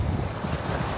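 Slightly choppy sea waves wash continuously at a fishing spot, mixed with steady wind rumble on the microphone, over one short stretch.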